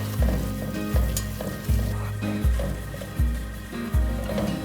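Flour cooking off in a very hot pot for Norwegian sour cream porridge, a steady sizzle and frying hiss broken by repeated low scraping thumps of stirring at a steady pace, close and fairly loud.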